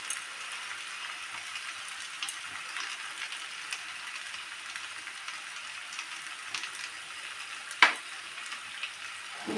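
Green potato curry with spices sizzles in a pan as it is sautéed in Bengali home cooking, a steady soft frying hiss with a faint clatter near the end.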